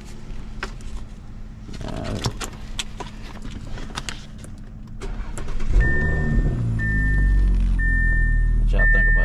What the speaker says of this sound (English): It sound like a V6.